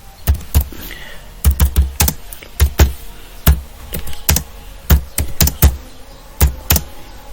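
Someone types text on a computer keyboard in Microsoft Word, with steady, close, crisp key clicks in irregular bursts and short pauses, and no talking.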